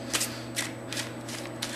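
A deck of playing cards is shuffled in short riffling bursts, about five crisp shuffles spaced roughly evenly, close and clear over a low steady hum.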